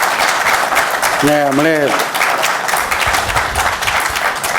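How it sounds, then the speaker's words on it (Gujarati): Applause from an audience at a Gujarati literary talk by Vijay Pandya, a dense steady wash of many hands clapping throughout, with a short voice speaking briefly over it near the start. "એકવાર ખૂબ તાળીથી એમનું અભિવાદન કરીએ"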